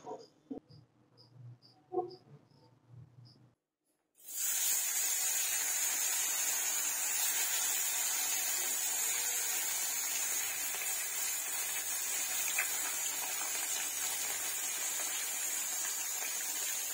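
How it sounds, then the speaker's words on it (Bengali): Pomfret fish frying in hot oil in a home kitchen, a loud continuous sizzle and hiss that starts abruptly after some quiet clinks and holds steady up close. "মাছগুলো আমি একে একে ভেজে নিলাম"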